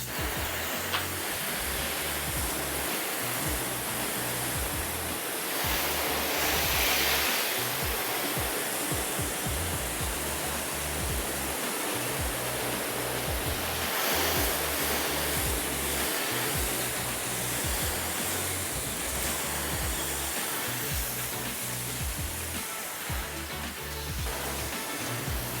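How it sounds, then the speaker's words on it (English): Water from a hose or pressure washer rinses soap off a ceramic-coated car hood, a steady, loud broadband spray hiss that runs unbroken for the whole stretch with no voices. "I'm going to start rinsing off the soap on the hood."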